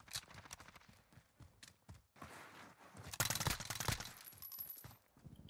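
Gunfire in the video game Modern Warfare, with a few sharp shots and bursts spread over a busy stretch of game audio that grows loud and dense toward the end.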